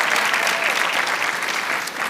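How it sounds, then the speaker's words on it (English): Audience applause at a school district's state-of-the-schools address, a brief burst of dense, even clapping from a seated crowd. "Let's give them a round of applause."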